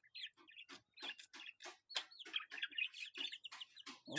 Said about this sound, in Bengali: মুরগি দুইটি অনেক চঞ্চল এবং সুস্থ সবল দেখুন দুইটি ঘুরে বেড়াচ্ছে